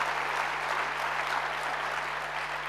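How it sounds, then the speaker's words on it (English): A conference audience at the South Africa Investment Conference applauds in a steady, dense round of clapping that holds an even level throughout, with a low constant hum underneath. "Let us give them a good round of applause"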